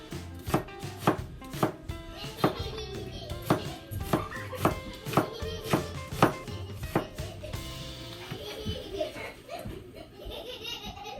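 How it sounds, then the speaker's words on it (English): A knife chops an onion into thin slices on a cutting board, sharp regular knocks in a steady rhythm for most of the stretch, loud and close, then thinning out toward the end as a voice talks over it. "This onion we cut it like this. Cut the track. Cut it thin."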